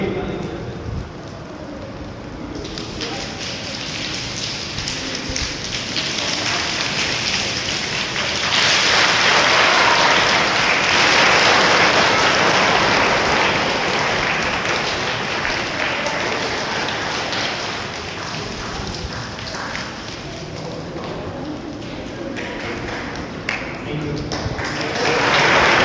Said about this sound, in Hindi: मैं जितनी अंगुली आपको दिखाऊं तो उतनी अंगुलियों से आपको लगातार तालियां बजानी है।